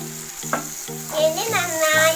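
Kadai chicken with turmeric and lemon juice fries in a pan while being stirred, a dense close sizzle broken by scraping strokes, with faint background music.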